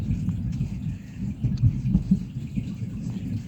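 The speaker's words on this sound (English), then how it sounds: "Did you hear that thunder?" Low thunder rumbles steadily indoors, a soft rolling roar with a few swells and no voices.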